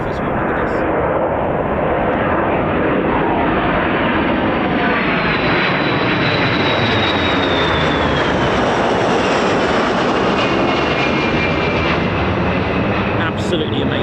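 Low pass of a military aircraft over the runway at RAF Mildenhall, such as a KC-135, MC-130J or CV-22 Osprey, a loud continuous engine roar close by that fills the whole span with a slowly shifting whine.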